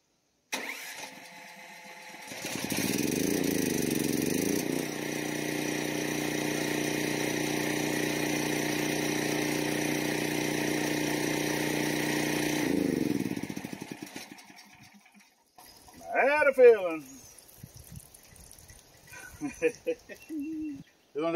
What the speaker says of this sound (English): So I'm going to go ahead and restart the generator.